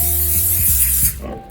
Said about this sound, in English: Spray the tin now.